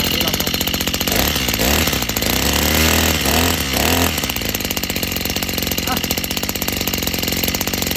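A Maruyama brush cutter engine running with the throttle locked, a loud, steady high-revving two-stroke buzz that holds constant throughout, while a voice speaks over it.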